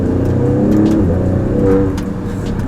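An Alfa Romeo Stelvio Quadrifoglio sports SUV engine revs loudly and continuously, a deep throaty roar with rising and falling pitch close up, no talking.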